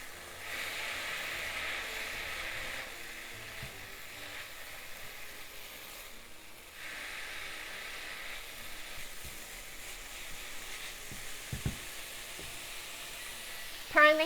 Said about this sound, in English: Keep stir frying until you cook down the sauce to half.